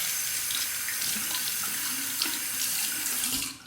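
Tap water runs in a steady, close stream over a Shave Nation PVD TTO safety razor being rinsed at a sink, holding even throughout and tapering off just at the end.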